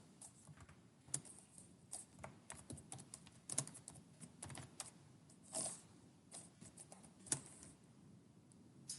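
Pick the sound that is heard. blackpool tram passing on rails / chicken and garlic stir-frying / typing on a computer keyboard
typing on a computer keyboard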